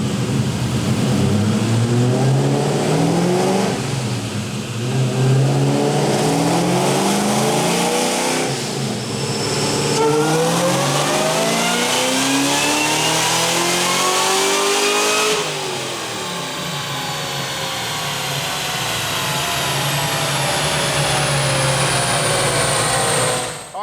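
A supercharged 2004 SVT Cobra (Redfire, 23K miles) revs hard on a chassis dyno, the engine climbing repeatedly through its range with a loud, rising supercharger whine. The pull is continuous and close, with no voices.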